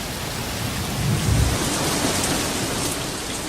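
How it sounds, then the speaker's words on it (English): Heavy downpour hisses steadily over open African bush during a brief thunderstorm, a dense, loud wash of rain with a low thunder rumble swelling near the middle, no voices. "The downpour seems to dampen animal spirits."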